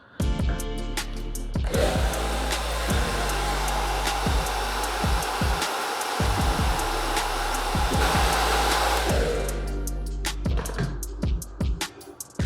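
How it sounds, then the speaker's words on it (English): A hair dryer blows steadily on a man's hair styled with sculpting paste, a loud continuous whoosh lasting about seven seconds with soft handling bumps before it starts and after it cuts off. "Let's blow dry for 30 more seconds."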